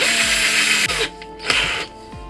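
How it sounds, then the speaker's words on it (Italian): A cordless drill slowly bores a hole in a homemade 150 mm jerkbait lure, its motor whining steadily and then stopping and restarting in short, close, loud bursts. "andiamo a appoggiare la punta, ok, e andando piano piano andiamo a forare"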